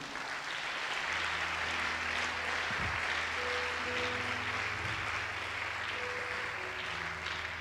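Steady, dense audience applause and cheering fills a church service hall, with sustained clapping throughout and faint musical tones beneath.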